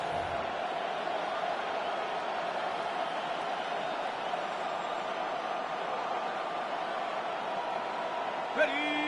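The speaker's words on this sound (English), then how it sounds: "That just means this crowd's going to get even louder" A football stadium crowd at a Jaguars at Raiders game roars in a continuous, dense wash of cheering and noise, with a commentator's voice running over it throughout.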